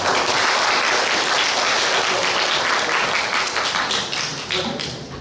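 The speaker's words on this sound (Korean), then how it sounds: "우리 모두를 위해서 박수로서 이 순서를 좀 마치고자 합니다" An audience claps together to close a workshop panel discussion, dense and loud applause sustained throughout before easing slightly at the end.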